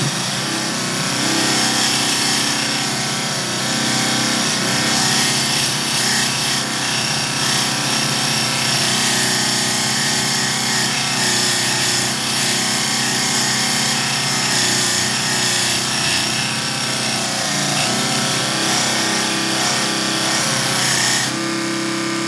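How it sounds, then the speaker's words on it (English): A small belt sander grinding a knife blade, running as a loud steady whine with a continuous abrasive hiss for the whole stretch, no voices heard. "This little sander, it takes it a little while, but it does its thing."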